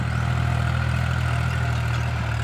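A Kubota L-series tractor drones steadily while plowing a damp, muddy rice field for first-pass soil preparation, its low, constant engine hum loud and close with no change in pace and no talk.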